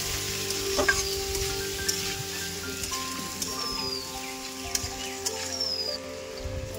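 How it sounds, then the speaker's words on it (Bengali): Chopped tomatoes sauté in oil in a pan for a potato and koi fish curry, giving a steady close sizzle with light stirring scrapes and faint rustles throughout. "কেটে রাখা টমেটো দিয়ে দেবো। এবার ভালো করে একটু কষিয়ে নেব।"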